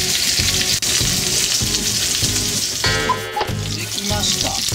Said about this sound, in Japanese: そしてここからちょっと5分ぐらい蒸し焼きにします。